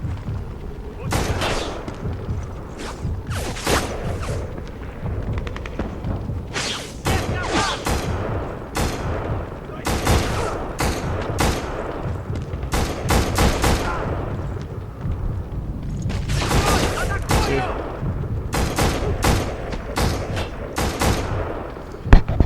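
Repeated bursts of automatic gunfire in the shooter game BLACK crackle loudly in short volleys across the whole stretch, with booming impacts and a few brief pauses between them.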